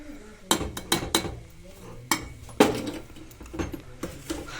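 Cashews and almonds tumble into a cooking pot in a village kitchen, giving a scatter of sharp, close clinks and clattering hits in uneven bursts.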